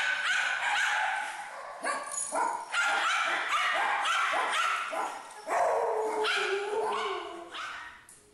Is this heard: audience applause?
no